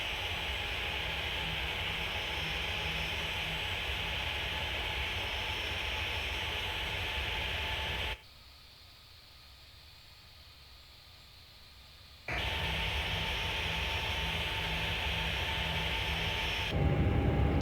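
Airliner engines in Flight Simulator X drone with a steady loud hum and whine, cutting to a much quieter, muffled hum for a few seconds before the full engine drone returns.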